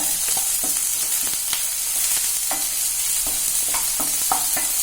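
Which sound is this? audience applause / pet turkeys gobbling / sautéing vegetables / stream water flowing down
sautéing vegetables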